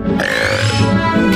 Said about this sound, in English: And then they have to power it with burps